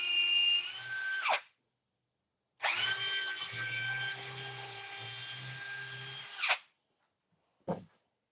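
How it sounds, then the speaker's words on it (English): A power drill whirs into wood in two bursts, a short one then a longer steady run, with a brief clunk at the end; loud and close. "while I'm drilling this, I'm going to move the mic."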